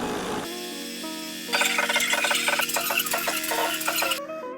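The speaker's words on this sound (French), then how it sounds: "on peut démarrer la broderie" A commercial embroidery machine stitches a 3D raised design onto a cap, starting with a steady motor hum, then a fast, rhythmic rattling of needle strokes before it stops abruptly.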